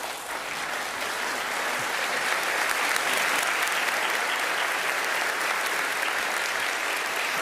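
Sustained applause from the audience at a Lancaster University graduation ceremony, a broad, even wash of many hands clapping that holds steady and slightly swells across the whole stretch.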